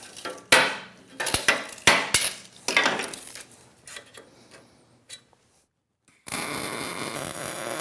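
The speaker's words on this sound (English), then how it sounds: "Hammer." A hammer strikes the steel of a welding cart under construction, a series of sharp, irregular metallic knocks that fade into quieter taps, then a brief silence before a steady noisy whir takes over.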